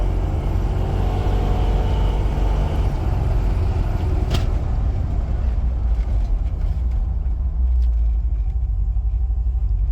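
A C10 truck fitted with a new Hydroboost brake system brakes hard from about 60 mph, producing a loud, steady road and engine rumble that eases off toward the end without any tire screech.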